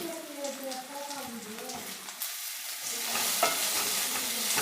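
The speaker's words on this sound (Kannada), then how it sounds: "ಈಗ ಒಂದು ಪಲಾವ್ ಎಲೆನ ಕಟ್ ಮಾಡಿ ಫ್ರೈ ಮಾಡ್ಕೊತಾ ಇದ್ದೀನಿ ಈರುಳ್ಳಿಯಲ್ಲಿ ಹಾಕಿ" A chopped bay leaf fries with onions in a pan, giving a soft, steady sizzle with scraping stir sounds. A person talks over it during the first half, and the frying grows slightly louder toward the end.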